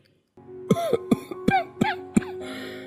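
A man coughs several times in harsh bursts, with a strained, wheezy breath between coughs, close up in a quiet room.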